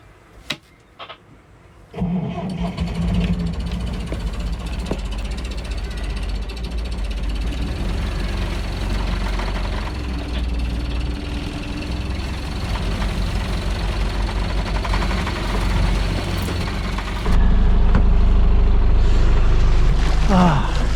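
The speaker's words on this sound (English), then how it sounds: "Gonna turn on the engine." A sailboat's inboard engine at a remote Scottish anchorage cranks and catches after a short quiet lead-in, then settles into a loud, steady low idle that thickens toward the end, with a few voices in the background.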